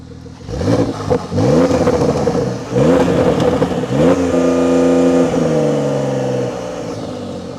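Tuned Porsche 911 992 GTS flat-six with an Akrapovic exhaust revved in sport mode: a rapid series of loud, snarling blips pulled up against a soft limiter, then a longer rev dropping back to idle, close by.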